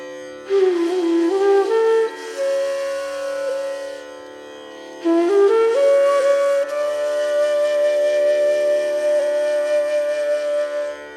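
A flute plays a rising raga scale twice, sliding up through notes into long sustained tones, clear and solo with no accompaniment.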